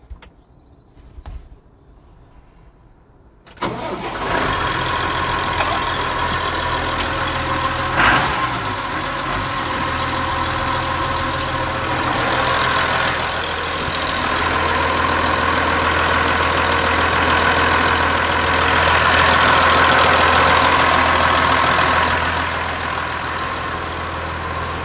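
After servicing and purging the injection pump, a Massey Ferguson tractor engine cranks over and fires after a few quiet seconds. It then settles into a loud, steady idle close by, with a low knocking rumble.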